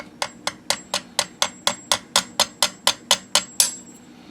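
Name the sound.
hammer tapping metal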